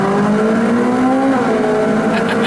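A sports car engine revs loudly and steadily with the rear window down while passing through a tunnel, a sustained rising and falling engine note that stays close and continuous throughout, with no talking.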